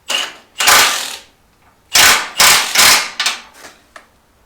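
Bench vise being tightened on a metal piece for a Detroit Diesel 671 engine cradle, giving several loud, separate bursts of ratcheting, grinding mechanical noise with short gaps between them, close by and with no talk.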